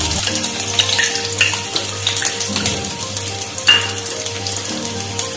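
Ginger paste and dry garlic sizzling in oil in a pan while cooking paneer chilli, a steady close frying hiss with occasional stirring scrapes.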